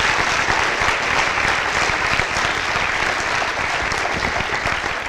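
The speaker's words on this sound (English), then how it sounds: "So truly, if I could get a round of applause for those guys and all their efforts." Crowd applause for the coaching staff at a welcome-home event for high school basketball players, dense sustained clapping filling the room at steady loudness for the whole stretch.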